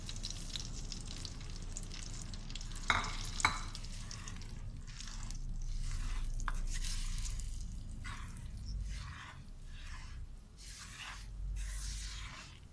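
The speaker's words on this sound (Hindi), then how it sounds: "घी अच्छी तरह से मेल्ट हो चुका है और अब इसमें सूजी डाल के इसको अच्छी तरह से भूनेंगे।" Semolina roasts in melted ghee over medium heat. A soft, continuous sizzle swells and fades in a slow rhythm as it is stirred, with a couple of sharp clicks early on.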